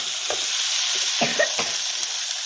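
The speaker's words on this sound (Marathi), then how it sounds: "दोडका टाकला तेल परतून घेतलं दोडका टाकला त्याला आता खालीवर करावं लागेल ना" Ridge gourd pieces stir-fried in hot oil, giving a soft sizzle with a few quick scraping stirs of the spatula, close and fairly quiet with no talking.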